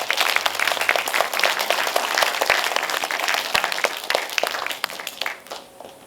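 A lecture audience at a cinema-hall talk on AI claps together in a steady, moderately loud burst of applause that thins out and fades toward the end.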